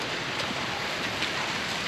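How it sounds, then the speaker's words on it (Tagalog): Steady rain falling outdoors near a house where a cobra hid in a bathroom, a dense, even hiss of drops pattering on surfaces, continuous and close with no voices. "Punasan natin dahil napupatakan ng ulan."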